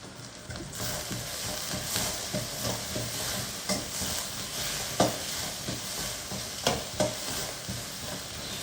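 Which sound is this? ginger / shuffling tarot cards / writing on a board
ginger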